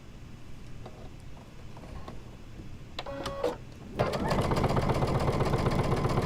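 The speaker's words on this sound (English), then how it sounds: "Now we're going to sew this seam" A sewing machine stitches a seam in a wildflower-field quilt block: a few soft taps and clicks, then a loud, fast, steady mechanical chatter that runs continuously to the end.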